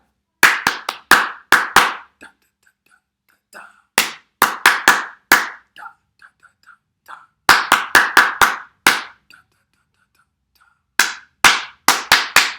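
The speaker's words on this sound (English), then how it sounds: "Don't clap this one back." Sharp hand claps in short rhythmic bursts, loud and close, with brief pauses and faint taps between phrases, part of a call-and-response clapping exercise.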